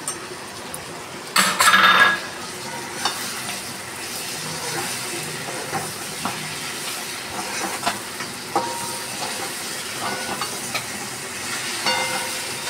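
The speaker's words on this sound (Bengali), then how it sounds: "তারপরে কাঁচা লঙ্কা আর পেঁয়াজ কুচি দিলাম, দিয়ে এইভাবে নেড়ে নেড়ে করব" Shrimp, green chilli and chopped onion frying in a pan, with a continuous sizzle and repeated scraping stir strokes, a loud clatter near the start and quieter stirring afterward, with no voices.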